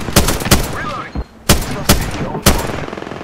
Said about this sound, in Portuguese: A mulher que tá me atirando sem dúvida nenhuma.